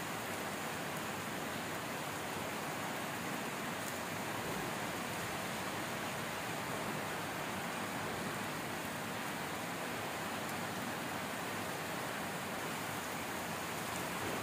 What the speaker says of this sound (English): snow rain padutundi